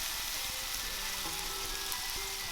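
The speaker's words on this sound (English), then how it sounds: "want to let this fry undisturbed until the chicken is browned on one side" Steady, dense sizzling of chicken frying in hot oil in a pan, a continuous crackle with faint clinks underneath.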